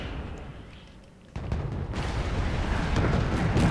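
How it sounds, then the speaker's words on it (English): Rocket artillery barrage in the video game Wargame Airland Battle, a dense continuous roar of launches and impacts that swells suddenly and keeps rumbling loudly to the end. "Good God, it's just constant rocket barrage."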